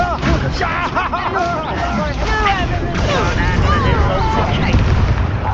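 A blasting spell bursts in the Hogwarts Legacy video game, a heavy rumbling explosion layered under constant battle noise and shouted voices, loud and dense throughout with no clear break.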